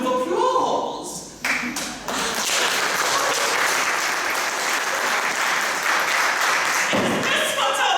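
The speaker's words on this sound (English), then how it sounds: "The only thing I couldn't pack was the sound of applause." Theater audience applause, a dense sustained roar of many hands clapping, loud and steady for several seconds with a brief dip early on, no talking over it.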